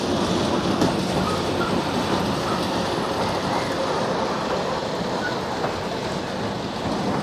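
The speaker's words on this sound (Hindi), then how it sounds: "इनकी ट्रेन चली गई" A ride-on train moving along its track, a steady rumble with rhythmic clickety-clack of wheels running continuously at a moderate distance, and no clear voices.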